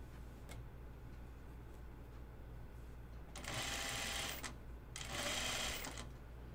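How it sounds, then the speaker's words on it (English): A home sewing machine stitching a dress, with two bursts of fast, steady mechanical whirring and needle chatter about a second long each, separated by a pause over quiet room hiss. "I finally put the dress by my home sewing machine"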